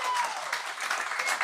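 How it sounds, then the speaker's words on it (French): Audience applause at the Bordel Comedy Club in Montréal, a dense steady patter of many hands clapping that fills the room, fairly loud and continuous with no voices over it. "vous applaudissez"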